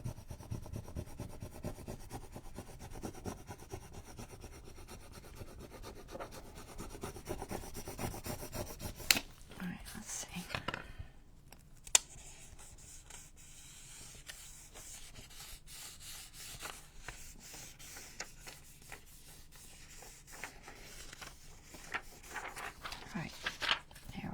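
Paper pocket made from junk mail rubbed down onto a Halloween junk journal page, a soft steady scuffing and sanding texture running close and quiet, with a brief louder patch of handling midway.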